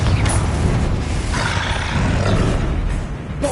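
Booming spell explosions from Bombarda and Confringo in Hogwarts Legacy, a loud, continuous rumbling roar of blasts and crashing debris with no pause between them.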